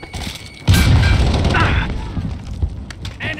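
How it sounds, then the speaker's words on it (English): A grenade explosion in Call of Duty Modern Warfare 2019 during a Domination match on the Rust map: a sudden heavy boom with a long rumbling, debris-laden tail, loud and close amid scattered gunfire. "Throwing grenade!"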